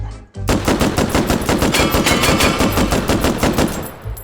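A WWII light machine gun chambered in .30-06 fires in the H3VR video game, a loud, rapid sustained burst of evenly spaced shots after a brief silent start.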